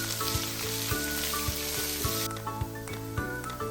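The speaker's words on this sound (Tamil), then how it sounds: "உப்பு சேர்த்துட்டு இது எல்லாத்தையும் நல்லா வதக்கி விடுங்க." Onions sautéing with salt in a pan, giving a constant bright sizzle broken by a regular rhythm of spatula strokes against the pan, close and without voices.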